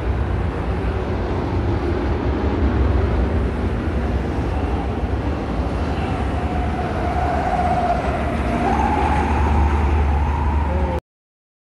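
A Sri Mulya Agung bus passes by on a road, a loud, steady low engine and tyre roar that rises slightly mid-pass and carries on for several seconds before stopping abruptly.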